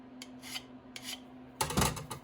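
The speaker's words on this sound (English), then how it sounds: "We can also just use a nice file. File that just flat and smooth." A metal file rasps a rod bearing for a Maytag 92 flat and smooth in several quick, close strokes, the last one heavier and louder.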